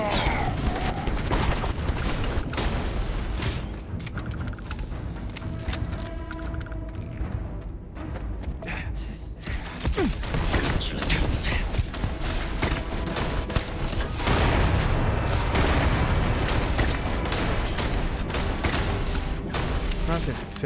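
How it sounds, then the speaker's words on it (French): Sustained enemy gunfire in a Starfield space-shooter battle, dense volleys of shots and booms rolling continuously at loud level, with someone talking over the fighting. "Il me tire dessus."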